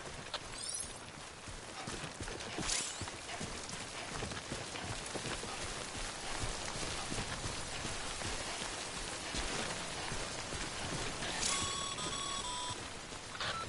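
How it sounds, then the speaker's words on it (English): Steady rainfall in the video game Death Stranding patters continuously at close range, a dense even wash of drops with faint electronic tones near the end and no talk. "Don't stay out in the rain any longer than you have to."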